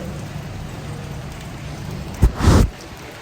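Steady artificial rain patters in the background in Dubai, with a sudden louder whoosh and thump near the end before settling back.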